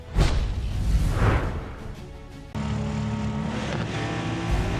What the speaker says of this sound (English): You can hear the engines revving here at the Nurburgring